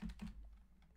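Computer keyboard keys tapped during Minecraft play on a server, a brief quick burst of a few soft clicks at the start, then near silence, close and quiet.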